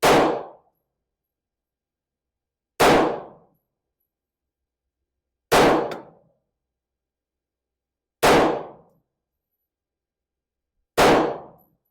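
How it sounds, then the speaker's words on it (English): Five loud, evenly spaced pistol shots fired at a target while zeroing an Aimwin PN330 RMSc red dot sight, each a sharp crack with a ringing tail, separated by pauses of nearly three seconds and no talk. "I'm going to do a group of 3 to 5 shots and then see where we need to go from there."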